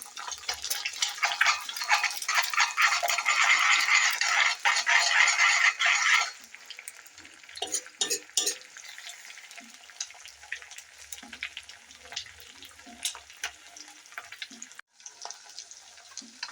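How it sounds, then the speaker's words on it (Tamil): Two eggs fry in hot oil for egg noodles, sizzling strongly for several seconds before dropping to a quieter hiss with light stirring scrapes; no one speaks. "இப்போ வந்து ரெண்டு எக் ஆட் பண்ணியாச்சு நல்லா கிண்டி விட்டுருக்கலாம்"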